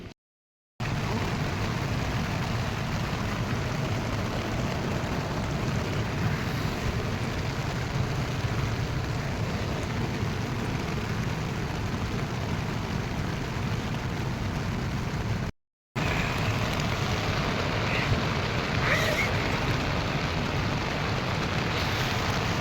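Steady rain hisses without pause at Chitkul, a Himalayan village near the India-China border, with a short silent break near the start and another about two-thirds of the way through.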